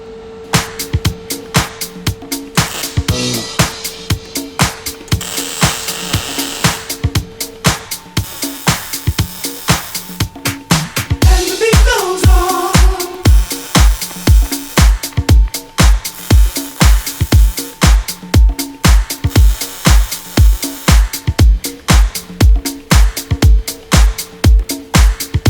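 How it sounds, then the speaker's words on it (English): Welding of subframe reinforcement plates on a Nissan S chassis, loud and close, as a steady run of evenly spaced crackling bursts repeats again and again, with deeper thumping pulses joining midway. "All right, first weld."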